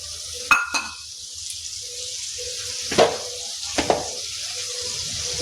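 Tomato, ginger, green chili and garlic puree goes into a cooked, oil-separated masala for an aloo besan sabzi, giving a soft, steady sizzle with a few sharp stirring clinks and scrapes.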